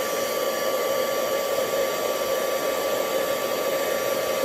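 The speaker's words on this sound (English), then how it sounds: "So now I get my heat tool and get it warming up." A heat embossing tool warms up with a loud, steady blowing roar like a hair dryer, constant and close for the whole stretch, with no talking.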